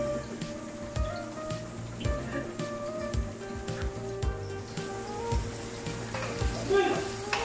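Chopped ginger sautéing in a pan as the first step of a Filipino chicken tinola, a steady soft sizzle with light stirring clicks and scrapes running throughout, close and moderate in level.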